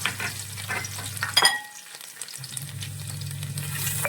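Dried chili, crushed cardamom, cloves and garlic fry in hot oil in a pan, a close bright sizzle with a sharp clatter as the garlic drops in, then the sizzling settles and continues.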